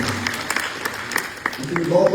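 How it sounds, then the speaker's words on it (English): A crowd at a government town hall in Saniquellie City, Nimba County, claps for the superintendent, scattered applause mixed with chatter and a voice rising toward the end. "Clap for the superintendent"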